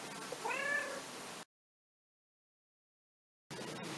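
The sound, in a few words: female cat meowing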